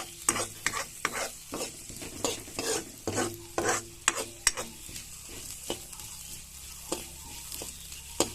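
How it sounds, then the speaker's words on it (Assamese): Fenugreek seeds frying in a wok over a low flame, stirred rapidly with a spatula that scrapes and taps the metal in quick irregular strokes over a faint sizzle, close up and without talk. "খুব ঘন ঘনকৈ লৰাইছোঁ"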